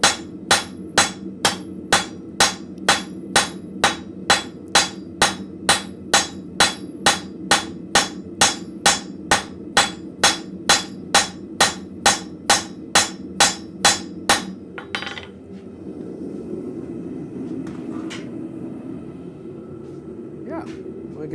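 A cross peen hammer strikes a hot arrowhead on an anvil in a blacksmith shop, ringing in a fast, steady run of about thirty sharp blows, then stops, leaving low background rumble and faint sounds.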